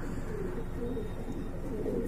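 Soft, continuous low cooing of pigeons, grizzle pigeon babies of the zero-feather type, close by with a muffled background hum.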